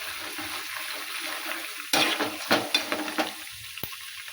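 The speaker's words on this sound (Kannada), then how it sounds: "ಎಲ್ಲ ಎಣ್ಣೆಗೆ ಚೆಂದಾಗಿ ಫ್ರೈ ಮಾಡ್ಕೋಬೇಕು ರೀ" Peanuts, coconut, roasted gram and garlic fry in oil for a spicy North Karnataka chooda, with a low sizzle and sharp stirring scrapes that build into a clattering run before easing off.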